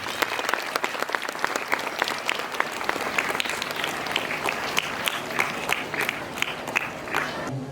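A crowd claps enthusiastically in sustained, dense applause that carries on throughout without letting up.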